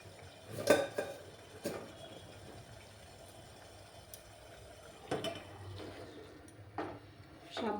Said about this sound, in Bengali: এখানে আমি জল ফুটতে দিয়েছিলাম এবার আমি এটার মধ্যে এটা বসিয়ে দেবো টিফিন কৌটোটা